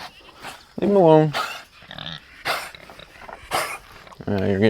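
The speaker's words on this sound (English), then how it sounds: "This is my dog Ray, one of my Great Danes." A Great Dane barks and growls at close range in a short burst, then goes quiet and barks again near the end, while a person talks in between.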